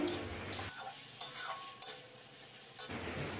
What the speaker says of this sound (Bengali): মশলাটা দিয়ে ভালো করে কষিয়ে নিতে হবে।